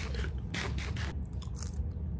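Crispy chocolate pancakes bitten into at close range: a few crunchy bites in the first second, then quieter chewing and scraping, no talking.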